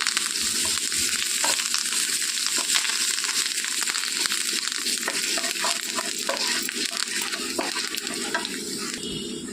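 Curry leaves crackle and sizzle loudly in hot tempering oil with asafoetida, a dense, steady frying hiss with sharp spitting pops throughout, close up and without speech.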